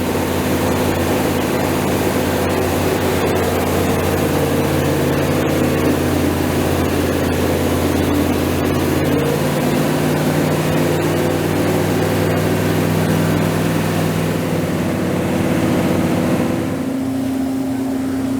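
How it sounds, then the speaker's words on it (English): A 1967 Buick Riviera 430 V8 runs steadily on a dyno, giving off a loud, continuous droning hum with a constant low tone that shifts slightly near the end. "So we just let our engine run for about 30 minutes."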